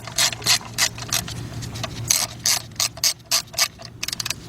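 Ratchet clicking in quick bursts while tightening bolts on the low side suction A/C hose fitting, threading into aluminum, on a 2006 Nissan Altima; close, loud repeated pawl clicks in short runs with brief pauses.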